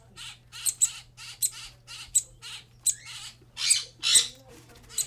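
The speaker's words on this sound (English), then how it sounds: "These are downy woodpecker babies." Downy woodpecker babies held in a wildlife care setting give a rapid run of harsh, close squawks in short bursts, growing louder and more urgent toward the end.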